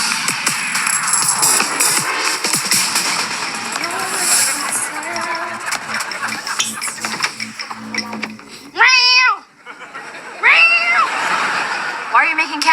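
A person imitating a cat gives two drawn-out meowing calls near the end, loud and close, after a stretch of busy indoor sound and chatter.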